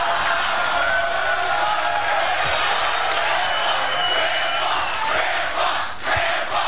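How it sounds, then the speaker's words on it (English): A loud, dense crowd roars and cheers without a break, a steady wall of voices cheering on an elderly man who is laying pipe. "The crowd is supporting the grandpa."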